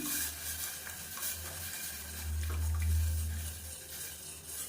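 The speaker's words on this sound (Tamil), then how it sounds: "இது கை விடாமல் கிளறிக்கிட்டே இருக்கணும்" Wheat flour batter is stirred continuously into hot water in a pot on the stove, giving a steady wet swirling and simmering sound with a low hum beneath it.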